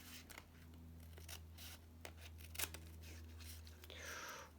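Scissors cutting paper for a shabby vintage junk journal, a series of close, crisp snips and slicing strokes at an uneven pace over a quiet room hum, ending with a longer rustling cut.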